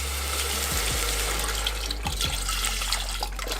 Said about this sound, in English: And then I just added some water